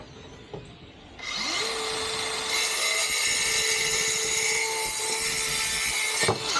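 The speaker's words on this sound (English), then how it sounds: "I'm going to use the cordless power saw." Cordless power saw cutting wood, with the motor spinning up after a pause and then a loud, steady, close whine that holds for several seconds before cutting off.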